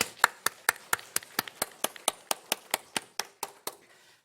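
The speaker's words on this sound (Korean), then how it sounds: "우리 감사의 박수로 영광을 돌리겠습니다." Church congregation at a Sunday morning service clapping in unison, about eighteen sharp, evenly spaced claps in a steady rhythm that fade slightly toward the end.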